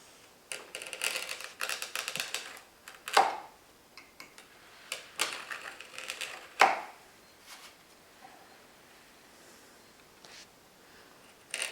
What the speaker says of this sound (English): use shallow strokes with a really sharp marking knife to cut the stack.